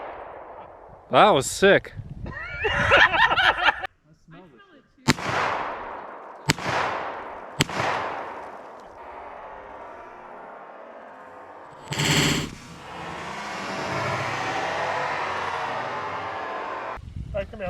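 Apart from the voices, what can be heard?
9mm pistol firing plastic practice rounds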